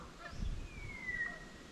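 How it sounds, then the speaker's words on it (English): A single duck or goose calls near paperbark trees along a tropical track, a short honk followed by a thin, drawn-out cry, moderately distant against quiet outdoor ambience with no talking. "It's a duck or a goose"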